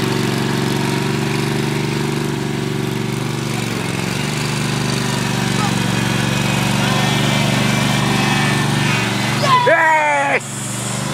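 A lawn mower engine runs steadily at a fixed throttle for lawnmower football in Ireland, its hum close and constant. Near the end the pitch sweeps briefly, then the engine cuts out and leaves near silence.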